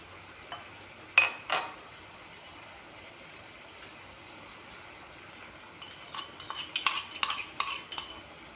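A spoon stirs crushed garlic and ginger into a fish curry, with two sharp metallic clinks early on, a quiet stretch, then a run of scraping, clinking stirs against the pot.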